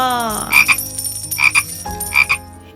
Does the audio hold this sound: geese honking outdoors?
no